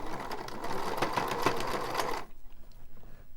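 An old zigzag sewing machine stitches along a hand-woven towel, running in a steady dense whir for about two seconds before stopping abruptly, leaving quiet room tone.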